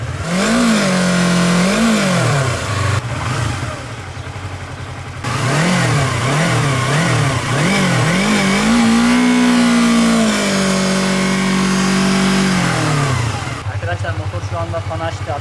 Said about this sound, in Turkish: Motor biraz daha çalışsın, ısınsın.